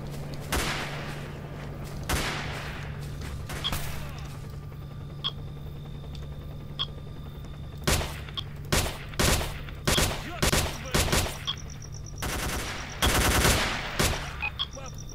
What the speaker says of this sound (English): Shooting at me. Yes, they are.